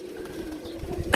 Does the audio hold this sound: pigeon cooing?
yes